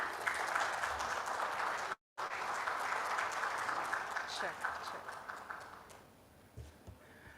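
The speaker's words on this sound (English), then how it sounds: "ladies and gentlemen, a big round of applause" Applause from a conference audience at an advertising report unveiling, a steady wash of clapping that cuts out briefly, then carries on and gradually thins toward the end, with a voice speaking faintly over it.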